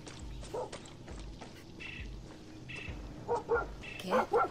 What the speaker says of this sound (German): Okay, ein Hund?